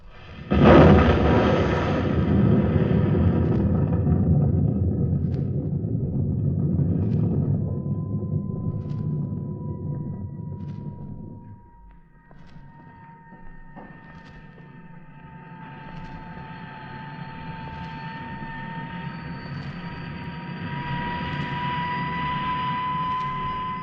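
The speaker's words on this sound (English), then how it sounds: "You'll hear the sound of the explosion any second now." A sci-fi radio drama explosion effect: a sudden loud blast that swells into a long, heavy rumbling roar, then fades into a low, steady electronic hum.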